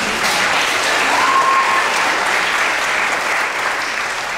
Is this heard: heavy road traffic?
no